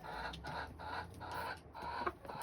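Quiet, close clucking from a broody satin chicken: a few soft, short murmured clucks spaced unevenly over a couple of seconds.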